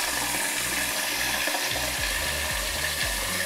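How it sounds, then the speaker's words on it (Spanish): A toilet cistern fills with water from its inlet valve, a loud continuous rushing and hissing flow with a low gurgling undertone, steady throughout with no talking. "Ahora se está llenando el agua en el depósito, está entrando en la parte más baja."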